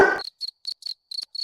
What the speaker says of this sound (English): There's a cricket.